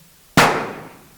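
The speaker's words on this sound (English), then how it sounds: "That's the ship's cannon. They're shooting at the stockade." A ship's cannon fires once at a stockade: a single sharp, loud blast with a long decaying rumble, heard alone.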